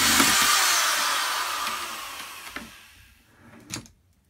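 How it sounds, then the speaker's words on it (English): A power drill whines steadily through metal drilling out a rivet, then winds down, followed by a few light clicks and a short burst at the end. "Just drill it out."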